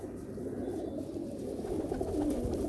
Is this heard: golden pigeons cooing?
yes